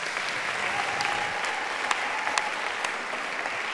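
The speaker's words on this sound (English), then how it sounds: "Give them a round of applause" Sustained applause from a church congregation during a 10:30 AM Mass, a steady dense patter of many hands held at an even level with a few sharper claps rising above it.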